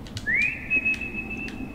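A whistle blown in the horror video game Lost in Vivo rises in pitch, then holds a long, thin steady tone for over a second, clear and alone.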